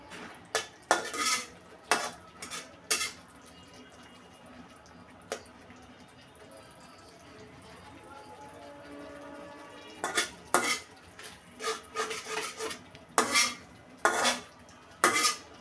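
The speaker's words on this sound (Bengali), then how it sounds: "সব মশলা কষিয়ে নিব" Spices are stirred and sautéed in a cooking pan, with bursts of metal spatula clanks and scrapes against the pan separated by a quieter stretch of faint sizzling.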